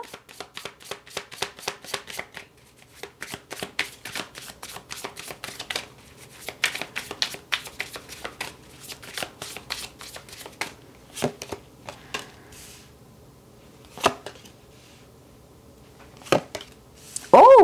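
Tarot cards being shuffled by hand, close and crisp, in long runs of rapid riffling flicks with brief pauses and a few sharper taps, fairly quiet, with no speech over it.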